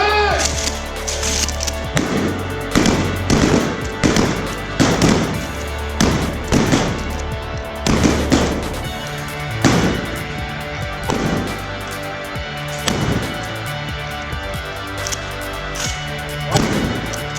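Shotguns fire during a police shotgun qualification on a range, a series of loud, sharp blasts at irregular intervals, about a dozen shots across the stretch, each with a brief echoing tail.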